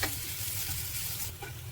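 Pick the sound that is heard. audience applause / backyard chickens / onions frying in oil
onions frying in oil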